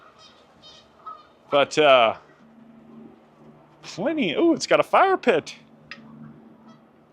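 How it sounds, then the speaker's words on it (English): Geese honk outdoors near a modern home in two bursts: a short call, then a longer run of loud, overlapping honks. A person talks during the calls. "There's some geese happening out here."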